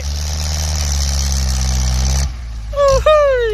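A Kubota L4708 tractor with a loud aftermarket exhaust rumbles at a steady idle, deep and close, then cuts off abruptly, leaving a brief whistle-like tonal sound at the end.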